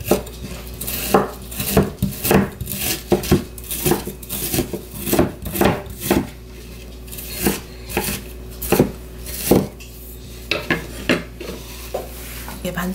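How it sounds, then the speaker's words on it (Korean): A knife chops frozen, pre-cleaned maesaengi seaweed into short pieces on a board, giving a run of sharp, close, irregular knocks with brief pauses, no talk. "이렇게 짧게 한 줌만 썰어서 넣어 볼게요."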